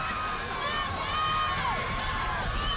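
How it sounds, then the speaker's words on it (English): Crowd noise in the stands at a high school football game, THS against Mt. Paran, rising as the offense lines up in the shotgun; a steady, dense roar of voices with shouts and whistling-like tones throughout. "Crowd making some noise out of the shotgun."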